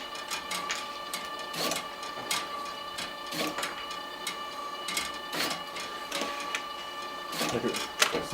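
A LAB500 labelling machine feeds cardboard tags onto a conveyor belt, giving a steady mechanical clatter with sharp, regular clacks about once a second over a constant whirring hum.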